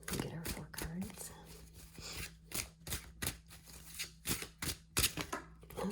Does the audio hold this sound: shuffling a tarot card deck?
yes